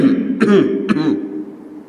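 Two distinct throat clearings sound close and loud, each a short raspy burst about half a second apart, over a low steady background hum with no speech.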